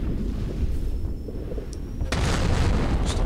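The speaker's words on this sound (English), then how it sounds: "Massive explosion and shaking the screen." A massive explosion in the video game From Dust lands as a sudden sharp boom over a steady low rumble, followed by a sustained roaring wash of noise.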